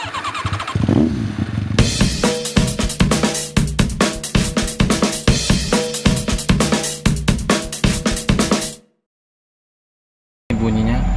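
The engine of a KIA Visto car with unstable RPM starts and runs up close. It gives a loud pulsing drone whose level surges and dips in an uneven rhythm, then cuts out to silence before briefly resuming.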